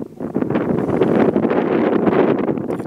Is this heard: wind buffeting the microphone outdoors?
yes